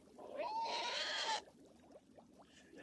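A cat lets out a long, drawn-out meow in a fairy-tale film scene, loud and close for over a second, followed by quieter rustling and faint background sounds.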